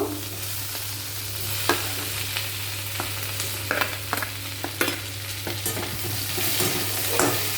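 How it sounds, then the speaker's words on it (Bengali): Onion and large-cut capsicum stirred in hot oil in a pan, a steady sizzle broken by repeated scraping stirs and occasional clacks of the utensil, close and fairly loud. "নাড়াচাড়া করে নিলাম তেলের মধ্যে"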